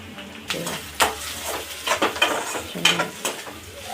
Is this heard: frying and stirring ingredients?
yes